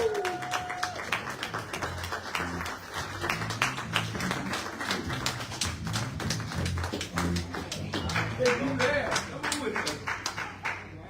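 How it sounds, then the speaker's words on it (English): An audience at a Black Men's Movement gathering claps and applauds, sharp hand claps and taps pattering steadily over a murmur of voices and talk, with the clapping growing fuller toward the end. "Give them a round of applause."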